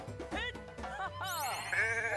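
Sheep bleat in the Renowned Explorers video game, a cluster of wavering, overlapping bleats from several animals that rise and fall closely together and grow louder toward the end over a light game backdrop.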